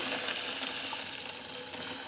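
Water is poured over grains to rinse them for sprouting, making a continuous splashing, gushing rush that is close and fairly loud.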